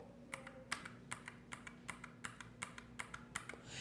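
Brown-switch mechanical keyboard keys pressed one after another, roughly a dozen distinct clacky keystrokes in a steady, fairly even rhythm, close and clear over a faint steady hum, with no talking.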